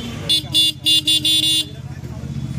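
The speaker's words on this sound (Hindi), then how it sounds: "हॉर्न भी इसमें चेंज किया जा रहा है, हॉर्न कौन सा लगाया" A modified TVS Apache RTR 180 motorcycle sounds its aftermarket horn in four loud, bright bursts, the middle ones short and quick, over a steady idling engine.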